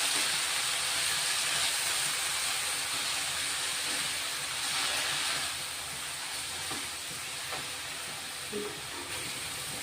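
Chopped garlic and fenugreek leaves fry in hot oil for a rassa bhaji, giving a steady, close sizzling hiss that runs throughout and eases slightly in the second half.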